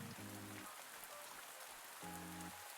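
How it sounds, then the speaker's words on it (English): Rain falls steadily in a farming video game, a soft continuous patter heard faintly alone, while two brief tonal musical chimes sound at the start and again near the end. "although it is raining"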